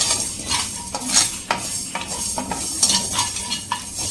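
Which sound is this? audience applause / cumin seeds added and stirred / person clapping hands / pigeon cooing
cumin seeds added and stirred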